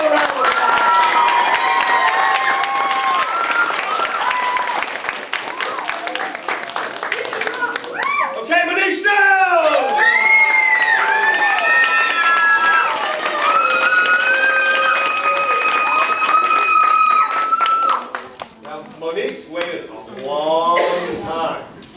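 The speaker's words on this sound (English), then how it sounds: "Give Lucille another round of applause." At a Family Martial Arts Center belt ceremony in Mount Dora, an audience claps for Lucille with whoops and cheers, dense and close, mixed with lively voices, then fades to scattered chatter near the end.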